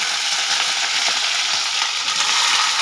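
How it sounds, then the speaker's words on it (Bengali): Cut carrots fry in oil in a wok, a loud, continuous bright sizzle with no voices over it. "গাজর কেটে নিয়েছি, এবার ভেজে নেব"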